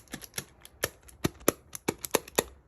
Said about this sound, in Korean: 이런 팡팡하는 소리도 뭔가 종이 테이프에서 나오기 힘든 그런 약간 비닐에 팡팡거리는 소리거든요